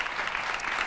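A studio audience on a Greek midday TV show applauds in a dense, even burst of clapping that lasts just under a second.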